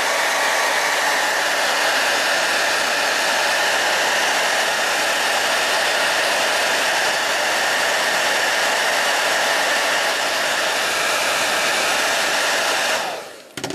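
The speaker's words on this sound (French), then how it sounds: "coup de sèche-cheveux, donc on le met bien sûr chaud" A hair dryer on a hot setting blows steadily on the plastic wrapper of a deck of playing cards, a loud, even, unbroken roar of air and motor for over thirteen seconds before cutting off abruptly.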